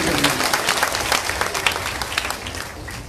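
An audience at a Bhagwat Saptah religious gathering in Noida applauds loudly, a dense patter of many hands clapping together that thins slightly toward the end.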